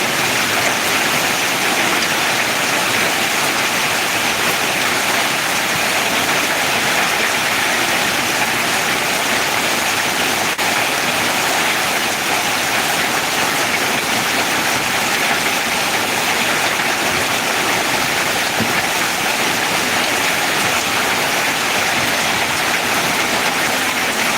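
Heavy rain falls in Ariyalur at the start of the rainy season. The downpour is a dense, steady hiss with no break and no voices.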